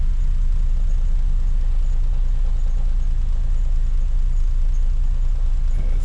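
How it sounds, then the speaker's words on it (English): A 2006 Lexus GS430 V8 idles steadily on its own power, a close, continuous low rumble with an even rhythm and no talking over it. "It's idling like the way it's supposed to."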